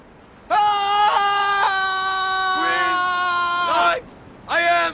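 A man lets out a long, sustained, loud scream with strained tonal harmonics, breaking off briefly before a second short scream begins; no other voices are heard over it.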